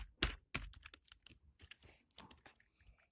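An old wireless computer keyboard being typed on, close and fairly quiet, with two sharp louder strikes at the start followed by an irregular patter of lighter key clicks.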